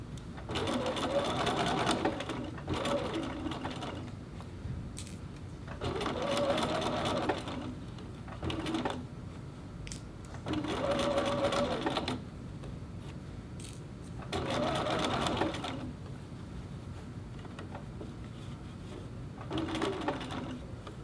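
A sewing machine stitches a collar onto the bodice of a little girl's dress with a zigzag seam, running in about five close, steady bursts separated by short pauses.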